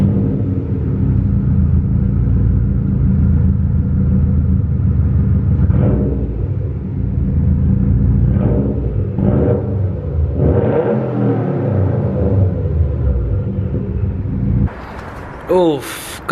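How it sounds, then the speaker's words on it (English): A 2020 Subaru STI four-cylinder sits under a deep steady idle rumble, then its exhaust swells in several revs before a short higher burst near the end. "Let me go ahead and start it up for you guys so you guys can hear what it sounds like"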